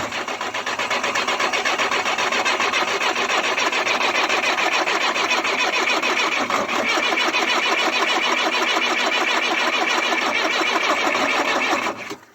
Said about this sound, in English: Now you go in there, turn the key on, and crank it.